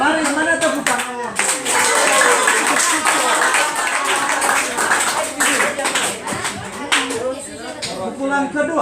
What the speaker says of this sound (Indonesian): mari mana tepuk tangan